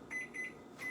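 Kitchen timer sounding three short, bright electronic beeps in quick succession, close and clear, with no talking.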